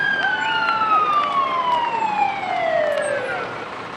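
A fire engine passes in a Dallas Fire Department parade with its siren wailing loud and close. The pitch sweeps up and down repeatedly and slides gradually lower as the truck moves by.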